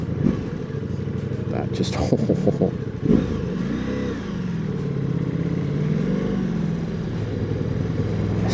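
A Ducati Multistrada Pikes Peak engine revs in a few sharp blips and then settles into a steady, throaty idle, close and loud, with someone talking over it.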